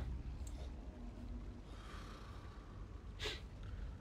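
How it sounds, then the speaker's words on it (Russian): Faint snoring comes from the video game Inside, with a couple of short breathy snorts about three seconds apart over a quiet background. "Кто-то храпит там еще."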